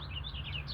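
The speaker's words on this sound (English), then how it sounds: "the birds are just going crazy" Quick high bird chirps at sunset repeat in a rapid series over a low steady background hum, faint and brief.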